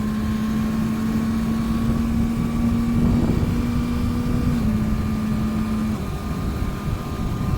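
A 2025 Kawasaki ZX6R motorcycle hums steadily while riding, a smooth engine tone under constant wind rush that steps down slightly in pitch as the rider shifts.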